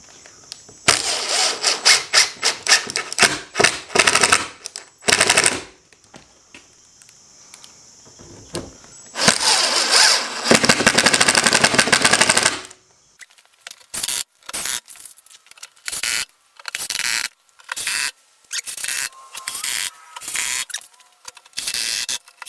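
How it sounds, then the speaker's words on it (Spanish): Screws are driven into a wooden board with a power screwdriver in short and long loud whirring bursts, some separated by brief pauses and clicks, all close by. "empiezo a poner tornillos"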